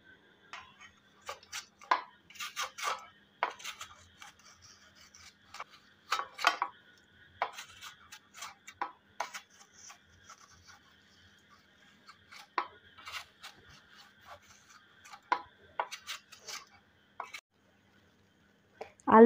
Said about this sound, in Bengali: আলু দুটোকে কুড়ে নেব